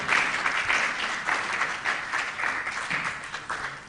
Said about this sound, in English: I think Mr. Damwa deserves another round of applause